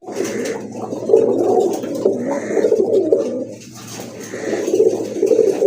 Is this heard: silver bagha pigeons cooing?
yes